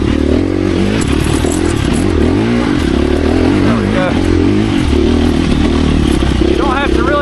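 A 2024 KTM 350 EXC-F dirt bike is ridden off-road, its engine droning loud and steady throughout with shifting revs, clattering and scraping, while a rider's voice talks over it.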